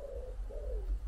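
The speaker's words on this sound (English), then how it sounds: "I've got pigeons landing," Pigeons coo close by in two soft, low, drawn-out calls over a rumbling outdoor background.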